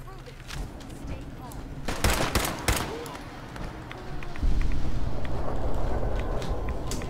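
Turret gunfire in the game Fallout 4 rattles in irregular bursts amid combat noise, with someone talking over the fighting and a louder rumbling stretch near the end.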